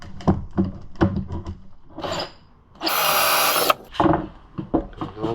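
A power drill whirs loudly for about a second as it bites through wood, surrounded by clicks, knocks and handling noises close by.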